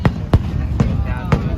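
Canada Day fireworks on July 1, 2023 go off in four sharp, booming bursts spaced unevenly across a second and a half, loud over steady outdoor background noise.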